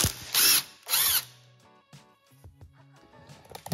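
A ratchet with a 13 mm socket loosening a fastener on the kickstarter of a Yamaha SR500 engine during a teardown, giving two loud, buzzing ratcheting bursts followed by quieter clicks and metallic clinks close by.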